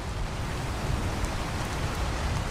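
A rainstorm in the video game ARK gives an even, steady hiss of rain falling on surfaces, with no breaks or distinct drops standing out.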